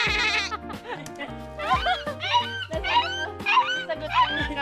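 A goat bleats nearby in a series of wavering, nasal cries, with musical tones and soft talk or other animal sounds mixed underneath.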